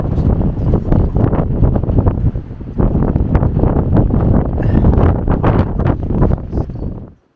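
Strong wind on a cold seaside coast buffets the microphone in loud, continuous roaring gusts that rise and fall, then cut off abruptly at the end, with no talking.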